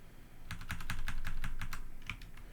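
A computer keyboard is typed on in a steady run of about a dozen close, even keystrokes over a constant hum, ending with a couple of scattered taps.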